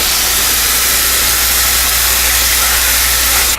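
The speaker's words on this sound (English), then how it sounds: "I have 1 pound of bulk sweet Italian sausage in my skillet on the stove, and you can hear it sizzling" One pound of bulk sweet Italian sausage sizzles loudly in a hot skillet on the stove, a steady, dense hiss of frying fat that holds constant throughout.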